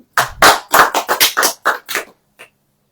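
A church congregation at a sermon claps, about nine sharp separate claps in a quick uneven burst, loud and close, then stops, with one faint tap after.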